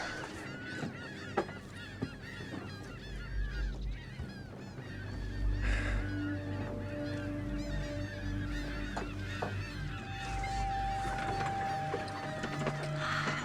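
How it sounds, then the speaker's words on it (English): Seagulls calling at a beach, a busy chorus of repeated honking, squawking cries that overlap continuously at close range, with a few louder bursts and a steady low background rumble. "Seagull in the water."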